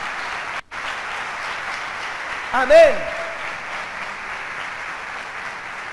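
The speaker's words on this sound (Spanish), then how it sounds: "Dale aplauso al Señor, bendícelo en esta mañana." A church congregation applauds throughout with broad, steady clapping filling the room at a constant level, while a voice briefly speaks over it partway through.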